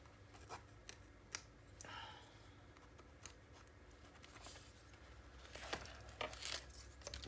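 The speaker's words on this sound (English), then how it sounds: "now let's go ahead and let's take the rest of the tape off" Tape is peeled off a paper mini album page in short, soft tearing and crinkling sounds, quiet and close, with scattered small taps and a brighter rip near the end.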